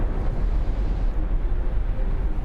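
A deep, sustained roaring rumble from a phreatomagmatic volcanic explosion with ash jets, heard from a distance, with no voices.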